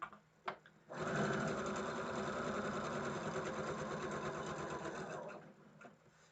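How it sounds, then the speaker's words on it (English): A sewing machine stitches a quilt block with a 1/4 inch presser foot, running in one steady, loud burst of rapid needle strokes for about four seconds after a couple of brief clicks. "you can use the edge of your 1/4 inch foot, or you can stitch right on the line"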